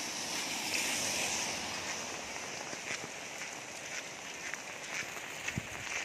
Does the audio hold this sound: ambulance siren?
no